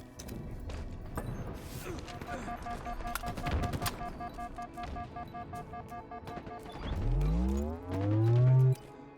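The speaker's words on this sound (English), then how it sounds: "just whipping that sniper rifle around. Missing wildly on that last attempt there." Sniper rifle shots and other weapon fire crack repeatedly through a Halo esports match, with dense, busy game sound effects and whooshing and sweeping tones toward the end.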